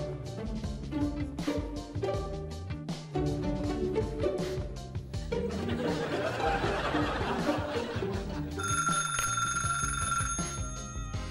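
A telephone rings with a bright, repeated electronic trill near the end, following a stretch of background sounds and faint laughter.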